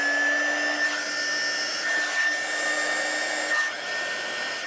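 A heat gun blows a steady, loud whine and rush of air close by while shrinking heat shrink tubing over a gear and magnet, with slight dips in the tone.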